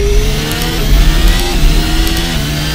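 A car's engine bay gives off a steady, loud, rumbling engine roar with revving swells throughout, alone with no talk.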